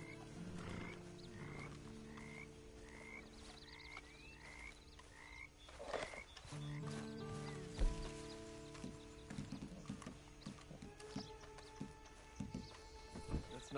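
Horse hooves clip-clop in Red Dead Redemption, a steady walking rhythm under a busy game soundscape of croaking frogs, chirps and low tones. A voice speaks briefly.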